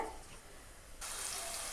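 Fennel seeds sizzle in hot oil, the crackling frying swelling louder partway through and continuing steadily, no one speaking.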